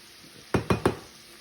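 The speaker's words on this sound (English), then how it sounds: "give it a good stir here" A spoon strikes a pot three times in quick succession while fried cabbage with onions is stirred, sharp close clinks over a faint sizzle.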